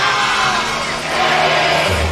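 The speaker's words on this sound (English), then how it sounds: "Good crowd here for the Gamecock contingent, but a mostly partisan Connecticut cheering crowd" A mostly partisan Connecticut crowd roars steadily at the women's basketball national championship against South Carolina, a dense, loud wash of cheering and yelling from a packed arena.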